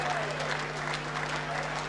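Audience at a 2004 ladies' world championship darts quarter-final applauding a winning shot, steady dense clapping from a crowd with a commentator's voice over it.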